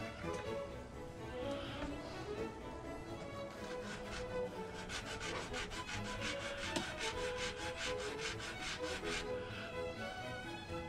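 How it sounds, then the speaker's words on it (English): Sandpaper rubs back and forth on a small wooden part for a HMS Bounty model ship, a steady close scratching that speeds into quick repeated strokes midway, with no talking. "we'll probably have to sand it down a little bit."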